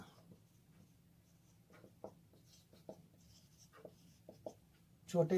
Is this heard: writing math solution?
yes